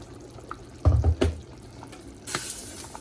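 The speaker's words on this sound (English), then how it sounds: "I'm gonna put a little bit more hot water, boiling water." Boiling water is poured nearby in short bursts, splashing loudly at first, then a brief hissing pour.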